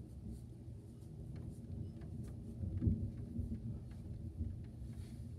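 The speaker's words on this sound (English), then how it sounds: "Yep, it's starting to pour." Rain falls during a strong thunderstorm at night, a low rumbling wash with soft patters and distant thunder-like swells, fairly quiet and continuous with no talking.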